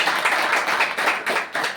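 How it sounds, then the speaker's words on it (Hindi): Congregation at a prayer meeting in West Singhbhum clapping in unison, a quick steady rhythm of many hands with brief pauses between bursts, fairly close and loud. "उसके लिए ताली बजाएंगे।"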